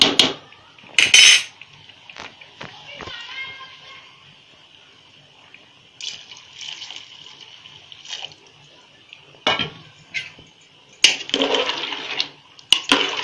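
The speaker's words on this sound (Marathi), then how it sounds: "आणि ते पाणी मी ओतले आणि थोडं शिल्लक ठेवले" Hot boiled water poured into a pot of soaked rice for chicken biryani, heard as a gurgling, splashing pour in bursts between metal clinks of the pot and utensils, close and moderately loud.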